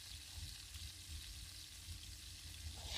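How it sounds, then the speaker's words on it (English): Meat sizzles steadily in a pan as it is stirred a little, a quiet, continuous frying hiss with faint scraping and no talk. "I'm just going to go on ahead and stir it a little bit"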